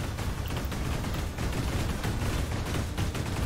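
Side cannons in a PlayStation combat game fire in rapid overlapping bursts, a dense run of booming shots at moderate level throughout.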